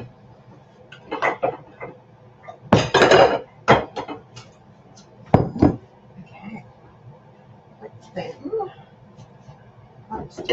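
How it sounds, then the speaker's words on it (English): Kitchen clatter of a mixing bowl being taken out of a cupboard, with a few sharp knocks and clinks of crockery and cupboard handling in a home kitchen, close and loud, separated by quieter gaps. "We'll get a bowl out"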